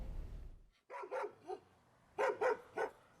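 Dogs barking at a Whitman County Humane Society animal shelter: about six sharp, fairly close barks come in two bursts, with a rumble of handling noise at the start.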